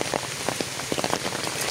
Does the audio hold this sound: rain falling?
yes